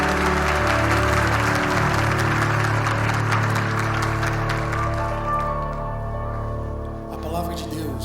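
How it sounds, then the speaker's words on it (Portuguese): A church congregation gives a round of applause for the children during a Holy Week service, dense clapping over sustained music and some voices, loud at first and gradually tapering off toward the end. "Salve de palmas para as nossas crianças."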